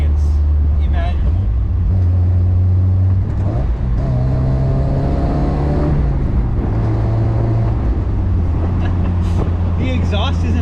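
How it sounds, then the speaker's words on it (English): A Mazda Miata's exhaust drones at low RPM while driving, a loud, steady low hum inside the car that shifts slightly in pitch, with a person talking over it throughout. "There is an exhaust on it and it does drone a little bit at lower RPMs"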